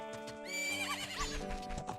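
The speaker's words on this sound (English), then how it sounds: "I befriend a horse." A horse in the video game Zelda: Majora's Mask gives a long, bright, warbling neigh over a steady musical backing, with rhythmic clip-clop of hooves continuing beneath it, loud and close with no talking.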